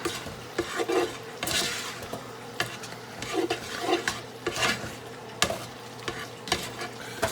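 Food stirred in a pot with a utensil, scraping and clinking in repeated bursts over a soft sizzle, close and fairly loud, with no talking.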